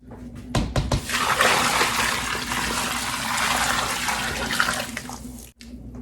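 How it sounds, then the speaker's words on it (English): Boiling water pours steadily into soil for several seconds in a continuous rushing splash, starting abruptly and cutting off near the end. "once it's boiling pretty good, we're going to dump it into the dirt"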